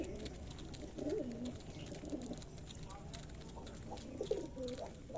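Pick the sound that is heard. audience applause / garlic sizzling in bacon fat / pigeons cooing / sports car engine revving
pigeons cooing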